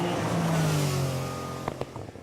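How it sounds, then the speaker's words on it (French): A classic rally car races past on a legends car event, its engine note droning and falling as it passes, followed by a few sharp knocks and clicks as the sound fades. "Avec une splendide voiture, Jean-Pierre Lajournade reste dans le peloton de tête"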